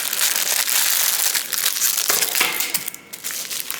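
Close crinkling and crushing of a bubble wrap bag being handled, a continuous dense rustle with sharper crackles and a brief pause near the end.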